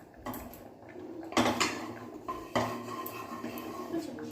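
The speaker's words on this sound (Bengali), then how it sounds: "এবার সবজিগুলোকে আমি একটি পাত্রের মধ্যে তুলে নিচ্ছি।" Cooked vegetables being scooped into a bowl in a home kitchen, with metal pots and utensils clinking and scraping in a steady run of close, sharp knocks.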